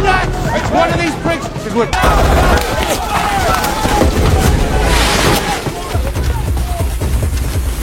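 Heavy gunfire in an action film shootout with a secret squad, a dense continuous barrage of shots and booms that is loud and sustained throughout, layered with dramatic soundtrack and effects.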